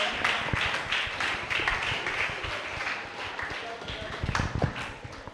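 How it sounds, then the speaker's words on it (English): Audience at a leadership summit claps continuously, dense steady applause that is fairly close, with scattered voices underneath. "Keep clapping till he comes to take the microphone from me"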